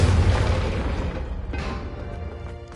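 Fiery Confringo spell explosion in the video game Hogwarts Legacy: a loud, deep boom at the start that rumbles and decays over a few seconds, with a smaller burst near the middle.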